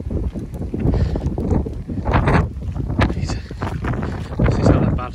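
Strong winter seaside wind in Weymouth buffets the microphone in rough, gusting bursts throughout, with a voice speaking underneath the blustery rumble.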